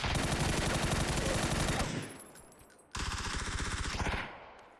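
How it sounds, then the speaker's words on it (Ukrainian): Automatic gunfire in PUBG, two long rapid bursts of loud, closely spaced shots separated by a brief lull, each burst cutting off abruptly. "По мені ззаді десь стріляв"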